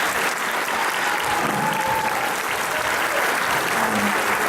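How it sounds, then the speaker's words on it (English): Full audience applause at a 2018 school spring jazz band concert in Souderton School District, steady and broad throughout with faint crowd murmur beneath. "Give him a round of applause."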